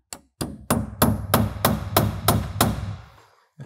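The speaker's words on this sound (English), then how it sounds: "So it's best to just tack them into position for now." A hammer tacks a window frame into position during a trades installation, about nine loud, evenly spaced blows in quick succession, each ringing briefly before the next.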